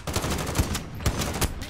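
A Barrett .50 cal sniper rifle fires in Call of Duty Modern Warfare: several heavy, booming shots ring out about half a second apart over a dense layer of continuous battle noise.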